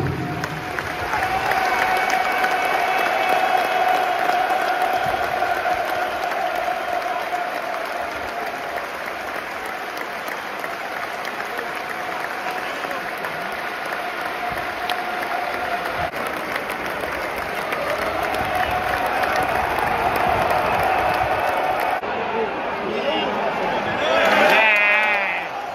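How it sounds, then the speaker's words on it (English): A football crowd at Millwall versus Watford holds a minute's applause, a broad, steady roar of thousands clapping across a stadium, sustained throughout with some crowd noise rising near the end. "Please join us for a minute's applause that will begin and end on the referee's whistle"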